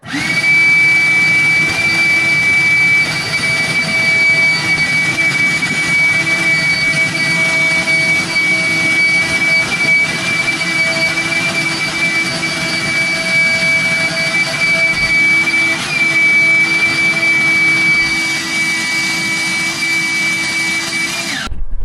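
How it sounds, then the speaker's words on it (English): A shop vacuum runs with only its bare hose across a pine floor, a loud, steady whining roar with a sustained high tone that holds for about twenty seconds before cutting off abruptly at the end. "What I do is I take the shop vac."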